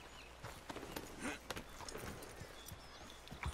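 Horse hooves clip-clop at an easy walking pace in the Red Dead Redemption 2 video game, a fairly quiet, irregular series of soft thuds over faint background ambience.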